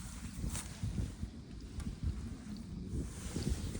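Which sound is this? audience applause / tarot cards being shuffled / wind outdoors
wind outdoors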